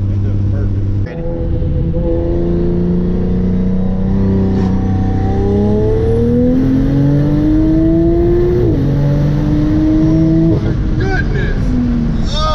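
A 2015 BMW M3 F80 with a QTP 3.5-inch electric exhaust cutout accelerates hard, its loud, raw engine note climbing steadily through the gears with brief shift dips, heard from inside the car.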